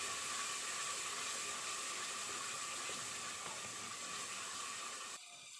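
Masala with yogurt frying in a pan gives a steady, dense sizzling hiss that continues without a break, then drops suddenly quieter at the very end.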